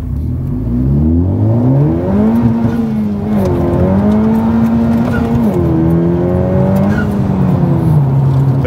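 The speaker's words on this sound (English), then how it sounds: "Wow, I'm really spinning, holy cow." A Honda Civic Type R with an upgraded fuel system launching hard with wheelspin, loud and close, the engine climbing in pitch through several gears with short dips at each shift.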